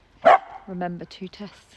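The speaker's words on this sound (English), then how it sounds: "Sorry about the dog." A dog gives one loud, close bark near the start, and a person then talks.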